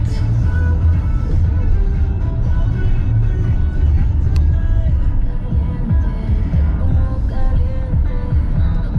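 Car engine rumbling steadily at close range during a slow drive around a city block in Bucharest, Romania, with continuous low road hum and throbbing under occasional faint talk.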